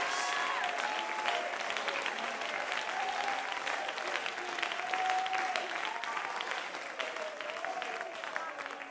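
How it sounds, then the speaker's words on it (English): A congregation claps during a Sunday evening worship service, a sustained wash of many hands beating together, loud and continuous, with scattered voices and shouts mixed in over the clapping. "Oh, you ought to be clapping your hands and shouting."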